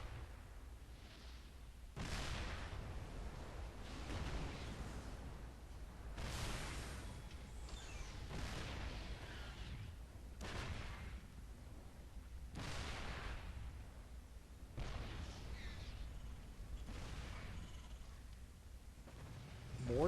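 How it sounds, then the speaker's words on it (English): Siege tanks in StarCraft 2 shell enemy bunkers, heavy booming impacts landing every couple of seconds over a low background rumble, with faint game noise between shots. "Do have these tanks trying to whap away at these bunkers"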